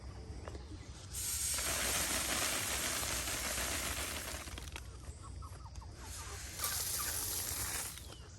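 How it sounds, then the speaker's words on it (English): Backyard chickens cluck and murmur in short bursts, with broad noisy swells that rise and fall across the stretch and a quieter, rumbling background between them; no talking. "Chickens."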